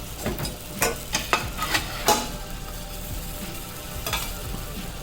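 Oil is poured lightly around a millet dosa on a hot griddle, setting off a steady sizzle punctuated by several sharp crackling bursts, close and clear with no talking.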